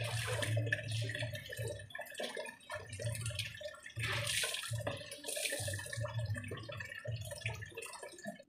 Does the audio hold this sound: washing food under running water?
yes